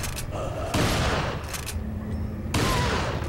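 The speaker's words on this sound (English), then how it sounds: "A shotgun!" A shotgun in Resident Evil 4 fires in heavy booming blasts, three loud broadband bursts spaced about a second apart, each followed by a short decaying tail and game ambience.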